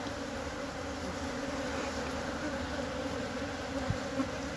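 Honeybees hum in a dense, steady buzz during the transfer of a colony to a new beehive, continuous and close with no talking.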